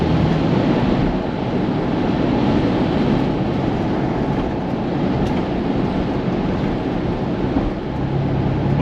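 A 2021-or-newer Ford Bronco fitted with a Roush axle-back exhaust cruises at steady speed, giving a constant, tame low rumble blended with wind and road noise and no distinct drone.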